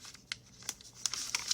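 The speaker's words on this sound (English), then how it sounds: "Pick up this paper if I could." A sheet of paper is picked up and rustled, giving several short, sharp crinkles and crackles at close range with quiet gaps between them.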